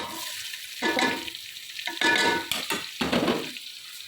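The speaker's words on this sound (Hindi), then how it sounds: "तो अब मैं इसमें डालने लगी हूँ प्याज" Chopped onions dropped into hot oil in a pan for achari bhindi, with bursts of loud close sizzling and stirring scrapes that swell and fade several times over a quieter hiss.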